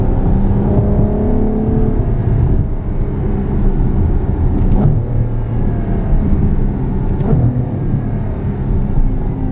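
Ferrari F12 Berlinetta accelerating hard, a loud, sustained engine roar with rising and falling tones as it pulls through gears, heard close and alone without talk.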